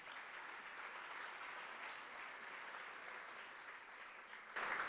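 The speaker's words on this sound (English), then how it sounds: "Give yourselves a round of applause" Attendees at a Latino leaders luncheon give themselves a round of applause, a sustained even wash of many hands clapping at a distance, swelling slightly louder at the very end.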